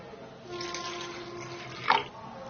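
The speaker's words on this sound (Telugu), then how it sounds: "నిమ్మకాయ సైజు చింతపండు తీసుకుని కొన్ని నీళ్లు పోసుకుని" Water poured onto a lemon-sized lump of tamarind in a bowl, a short, soft trickling pour close by, ending with a brief louder splash.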